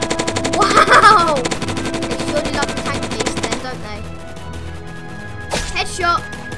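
Rapid automatic fire from a Thompson submachine gun in a Roblox zombie battle game, loud bursts layered over busy game music and effects, with a shorter burst later and a voice shouting over the action.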